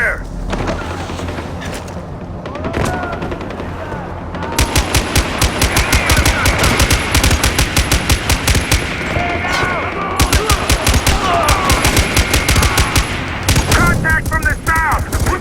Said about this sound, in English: Bad guys coming in from... I'm taking fire!